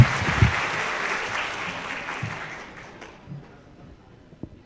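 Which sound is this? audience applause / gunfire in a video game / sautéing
audience applause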